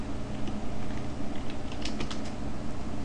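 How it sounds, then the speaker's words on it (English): Typing on a computer keyboard at a terminal, a steady patter of light key clicks over a constant low hum, with a few sharper keystrokes near the end; no one speaks. "I type in my name"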